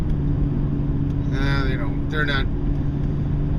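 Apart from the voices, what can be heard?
car traffic driving past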